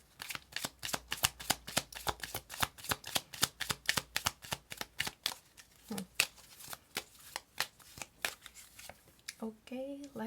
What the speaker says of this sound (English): Let's pull 3 more cards